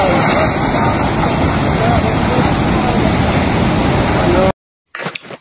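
Raging floodwater of the Kunar river tearing through an area where houses are being swept away, a loud, dense, continuous roar close by that cuts off abruptly near the end, followed by a brief rumble.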